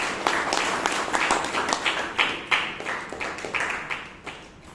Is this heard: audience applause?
yes